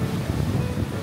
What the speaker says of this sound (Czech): Jsme na pláži Mala Milna.